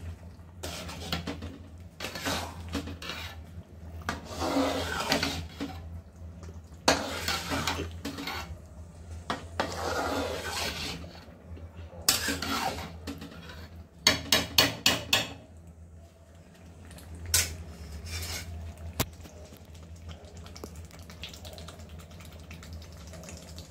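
Pav bhaji vegetables being mixed in a pan on a low gas flame, with a metal spoon knocking and scraping against the pan in bursts. Near the middle comes a quick run of sharp taps, and the sounds are close with no talk.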